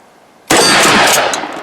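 A Mossberg Shockwave shotgun fires a single loud, close blast that bursts out of near silence and rings into a long, slowly fading decay.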